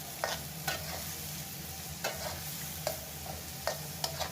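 Onion, green chili, garlic and shrimp fry in a pan with a steady, moderate sizzle, broken by several short scraping strokes of a spatula as the mixture is stirred.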